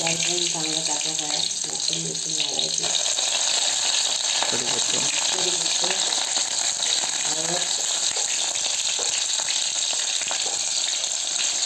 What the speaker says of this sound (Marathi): फोडणी घालायची लसूण टाकते